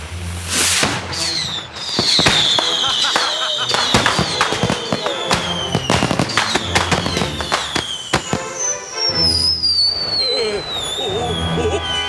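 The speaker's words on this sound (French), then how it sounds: "Ces feux d'artifice sont pour une réception au palais du gouverneur" Cartoon fireworks set off for a reception at a governor's palace: a rapid barrage of loud bursts, pops and crackles with rising whistles streaking overhead, continuous and dense for the whole stretch.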